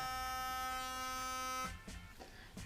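A Philips Sonicare 9000 DiamondClean sonic toothbrush runs on its highest intensity mode, giving a steady, loud, high-pitched electric buzz that holds for about a second and a half, then cuts off, leaving faint handling noise.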